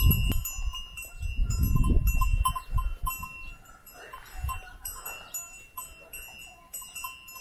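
A young lamb on a village farm bleats in a few wavering, nasal calls at moderate distance, with faint ringing tones and outdoor background noise.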